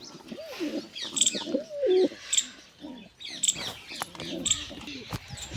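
Pigeons coo in low rolling bursts, with several birds calling over one another, mixed with sharper chirps and scattered clicks, moderately close and steady throughout; black and black-and-white pigeons are kept together.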